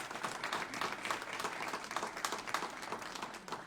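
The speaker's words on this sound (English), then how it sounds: "I think our candidates deserve a round of applause." Audience applause closing a candidates' forum for a state assembly debate, a steady dense patter of many hands clapping throughout at moderate, fairly distant level.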